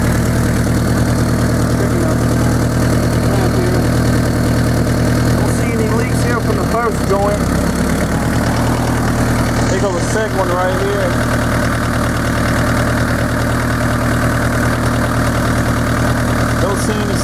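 A car engine fitted with a Turbonetics turbo idles loudly and steadily nearby, a continuous low rumble with a faint whine, while someone talks over it.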